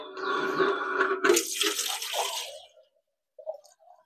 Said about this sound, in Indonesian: Nah, ini kita isi airnya sini.